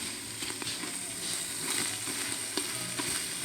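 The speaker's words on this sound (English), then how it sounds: "we're gonna cook that until the onions start browning" Onions fry and brown in a soup pot, giving a close, steady sizzle with small crackles and occasional stirring scrapes, continuous and moderately loud with no talking.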